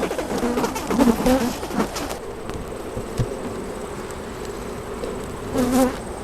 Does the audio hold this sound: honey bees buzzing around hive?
yes